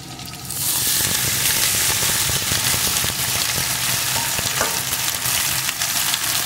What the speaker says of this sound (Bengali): আলুর সাথে কুমড়োটাও সুন্দর করে ভেজে নিয়েছি। এখন আমি পুঁইশাকটা দিয়ে দেব।